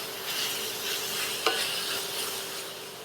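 Onions sizzling in a cast iron pan on an induction cooktop turned down low while being stirred, a steady soft fry with one brief scrape of the utensil midway.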